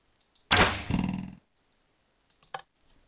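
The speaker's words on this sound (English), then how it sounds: "I've just spent the last 3 weeks of my life planting this massive TNT splosh, and I'm going to explode it for you" A giant TNT explosion in the Minecraft video game gives one loud, sudden blast that rumbles off over about a second, followed by silence and a small thud.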